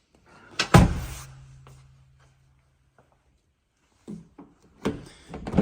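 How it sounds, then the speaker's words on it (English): Power-latching sliding side door on a 2023 Volkswagen Transporter LWB Kombi van thudding shut, followed by a low motorised hum as the latch pulls it closed, then further clunks and handling noises nearby. "These sliding doors are power latching, so if you don't close them properly, it will suck the end of the door in so it's fully closed."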